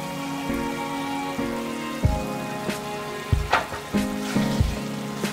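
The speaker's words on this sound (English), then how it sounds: "you just need to fry this masala well with the prawns" Prawns frying in a spiced masala in a pan, a steady close sizzle broken by a few louder clatters and stirring knocks, with no talking over it.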